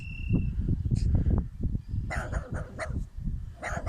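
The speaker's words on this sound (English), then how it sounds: "Yes, he's barking at you." A dog barks several times at moderate distance outdoors during a walk with a donkey, with short sharp barks spread across the clip over faint insect chirping.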